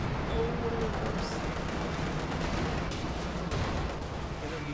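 Artillery fire in a Company of Heroes 2 match rumbles as a dense, steady barrage of distant booms and shots, moderately loud throughout, with occasional speech.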